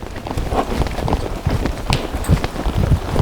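A horse moves through an arena, its hooves striking the ground in a steady run of close, fairly loud thuds and clops, with no talking.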